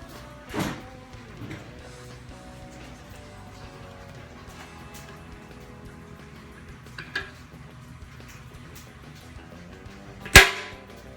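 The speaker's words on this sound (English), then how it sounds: "It's a nice good little thump like that." A glue tab pulled from a car body panel during paintless dent repair pops off with one sharp, loud crack near the end, after a couple of softer thumps over a quiet background.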